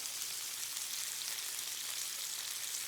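Onions are piled onto a beef burger patty and fry on a hot griddle for a butter burger, giving a steady, even sizzle close by with no pauses and no voices.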